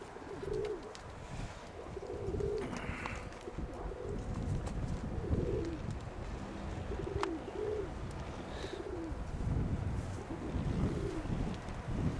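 Pigeons coo softly in repeated low, throaty phrases, with wind noise buffeting the microphone throughout.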